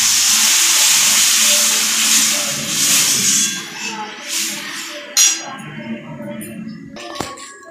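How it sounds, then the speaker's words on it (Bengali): Tomato and chilli paste for momo chutney sizzles and hisses loudly in a hot pan, fading to quieter bubbling, with a sharp metallic clink near the end. "এবার আমি টমেটো লঙ্কার যে মিক্সারটা এটা দিয়ে দিলাম।"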